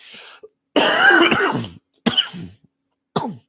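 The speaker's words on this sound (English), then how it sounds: "And I just coughed into my own hand like a fucking noob." A single loud, close cough into a hand, followed by two shorter throat-clearing coughs with gaps of silence between.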